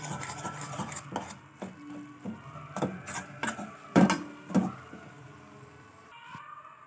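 Scraping and rubbing of a utensil against a pan in uneven strokes as ragi flour dough is stirred, close by, with a few sharper knocks mid-way.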